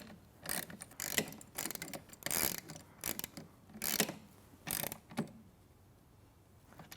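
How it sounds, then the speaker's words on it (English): A 7/16 socket wrench tightens nylock nuts on a Studio Reformer with metal risers, giving close, crisp runs of rapid ratchet clicks in several short bursts separated by brief pauses, with no talking. "I just need my 7/16 socket. I'm going to give that a little tighten."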